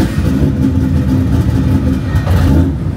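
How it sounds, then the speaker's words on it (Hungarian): A drift car's engine runs loud and steady, with a rough, uneven throb and slight revving swells throughout, close by and with no talk over it. "Nastartuju motor."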